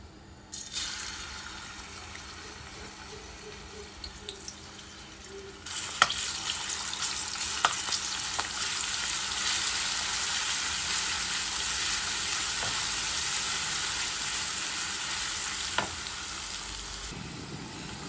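Garlic browning with onion and powdered spices frying in oil makes a continuous loud sizzle, with occasional sharp pops and stirring scrapes through the pan, steady and close with no talk.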